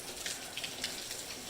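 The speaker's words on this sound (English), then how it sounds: "Whenever we get rain like this, there's a lot of water that runs down off that hill" Rain falls steadily outdoors around a farm house and barn on a hillside, a soft continuous hiss of drops with faint scattered patters.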